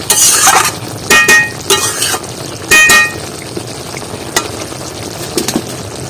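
Brinjal mustard curry being stirred in a pan, with a handful of loud, sharp scrapes and metallic clinks of the spoon against the pan, close up, over a low sizzle with no voices.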